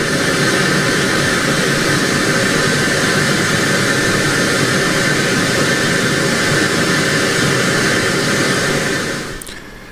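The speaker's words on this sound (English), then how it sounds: "you needed to play a special test file through your system called pink noise" Pink noise test signal for calibrating a DJ sound system: a loud, continuous, even static hiss that holds steady for about nine seconds, then fades out at the end.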